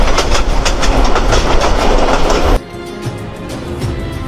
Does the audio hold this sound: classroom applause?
no